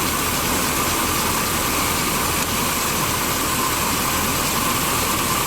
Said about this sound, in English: So it says let it run for 15 minutes at an idle.